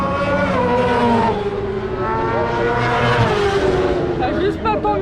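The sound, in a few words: racing motorcycles passing on a track straight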